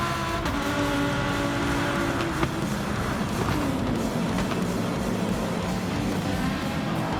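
Lamborghini race car on a track, chasing another car for a slipstream, its engine a continuous loud drone with shifting pitch as it runs down the straight, no voices.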